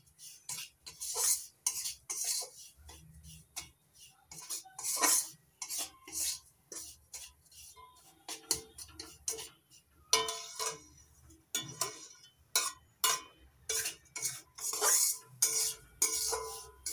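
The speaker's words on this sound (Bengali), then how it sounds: "সুজি হালকা করে ভেজে নেব।" Semolina being lightly roasted in a pan for modak makes repeated close clinks and scrapes of a metal spoon against the pan, in irregular bursts with quiet gaps, and no talk.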